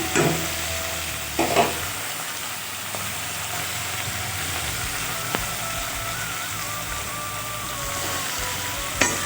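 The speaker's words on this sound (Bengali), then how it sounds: "পটলটা একটু ভেজে তুলে নেবো" Pieces of pointed gourd (potol) frying in oil in a pan for a home-cooked potato and potol curry, a steady close sizzle with occasional stirring clatters and no voices.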